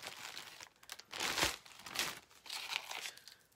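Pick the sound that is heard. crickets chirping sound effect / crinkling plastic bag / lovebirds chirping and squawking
crinkling plastic bag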